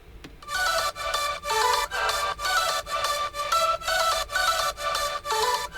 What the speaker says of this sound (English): But with the pitch bends, it sounds like this.